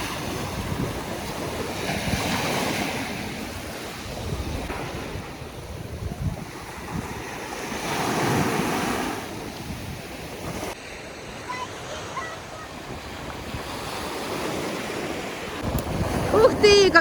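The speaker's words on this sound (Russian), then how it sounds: "Оставлю вам здесь шум морька." Sea surf washes steadily onto an Odessa beach, swelling in broad waves with wind rumbling across the microphone throughout, no voices.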